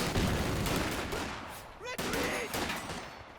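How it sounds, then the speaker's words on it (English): Rifle grenade launcher fire in the Company of Heroes 2 battle roars through dense, layered explosions and gunfire, with a whistling descending shell near the middle and heavy crackle throughout. "there comes the rifle grenade launcher from the grenade launcher"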